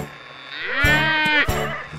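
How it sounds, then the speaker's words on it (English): A cartoon cow in a children's song gives a single drawn-out moo lasting about a second, loud and close, with a short bleating wobble near its end. "it's a cow."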